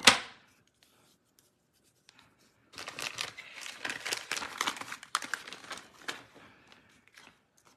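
Paper being trimmed during a handmade holiday paper pumpkin craft: a brief crisp snip at the start, then a few seconds of steady close rustling, sliding and crinkling as the excess is cut away, with no talking.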